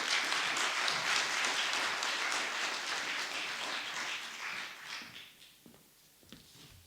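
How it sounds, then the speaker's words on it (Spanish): An audience at a colloquium claps to welcome Dr. Pablo Verdier, with dense, loud applause that fades gradually over the final seconds into near quiet. "Le damos un gran aplauso al doctor Pablo."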